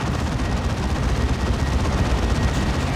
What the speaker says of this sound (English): And there's all the assault cannons again.